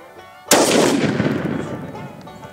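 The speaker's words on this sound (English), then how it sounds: "I wonder what would happen if we shot it again in the same spot." A single loud gunshot fired at a 25-pound barbell weight plate, a sharp blast that rings and decays over about two seconds, heard outdoors with no speech.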